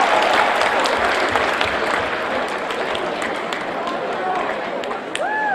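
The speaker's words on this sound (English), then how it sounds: "give yourselves a round of applause" Audience applause at a motivational talk, a dense, steady wash of clapping that holds loud throughout, with a crowd murmur and a faint voice underneath.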